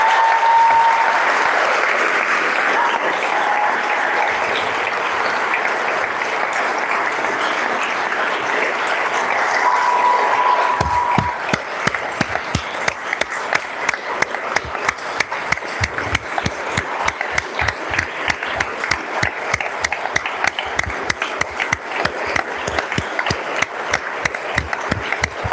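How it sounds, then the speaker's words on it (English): Applause for Vermont's 2026 Teacher of the Year at a joint assembly, starting as a soft, distant patter and swelling after about ten seconds into loud, sustained clapping from a large crowd, with no talk over it. "let's give her a round of applause for being named."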